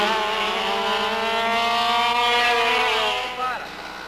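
Racing go-kart engines whine at a sustained high pitch, a close, steady buzzing drone that rises slightly and then drops away near the end as the karts pass.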